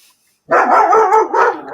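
A dog gives one loud, close bark that runs into a short, whining yelp and then trails off, after a brief silence.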